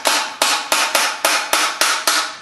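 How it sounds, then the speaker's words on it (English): A small dead blow hammer strikes an engine bell housing about eight times in a steady, evenly spaced rhythm, each tap loud, close and sharp with a quick fading ring. "A couple taps from a dead little hammer."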